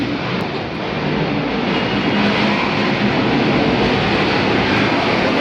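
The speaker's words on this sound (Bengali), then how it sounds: "আফটার বার্নার টার্ন প্রদর্শনের পর মিগ-29 বিমানটি অবস্থান নিচ্ছে প্যারাগ্রাউন্ডের দক্ষিণ প্রান্তে" Loud, continuous roar of a MiG-29 fighter jet's engine at an air show after an afterburner turn, a dense rumbling blast that holds steady throughout.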